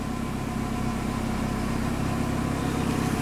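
Engine of a 2006 Dodge running steadily with a rattling exhaust, a constant low idle drone with a buzzy rattle throughout, close and alone with no voices.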